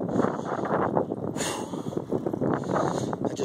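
Wind buffets a cyclist on a straight bike path, a rough, gusting roar battering the microphone up close, surging in waves throughout.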